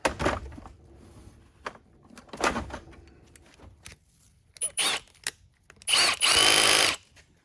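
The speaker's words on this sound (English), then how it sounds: "I have one of these on a drill" A power drill whirs in several short bursts, starting and stopping, with the last two longer runs loud and high-pitched, amid some clunks and handling noise, while servicing a Dyson DC07 vacuum cleaner.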